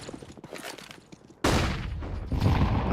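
A stack of grenades exploding in Counter-Strike, a loud sudden burst of blasts that cuts in midway after quieter scattered shots and rumbles on with overlapping booms.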